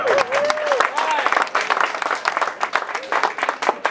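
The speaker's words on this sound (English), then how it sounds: "I want to give you, again, a round of applause." A room applauds at a Westchester-Playa Democratic Club annual summer celebration, with scattered clapping and a voice talking over it throughout.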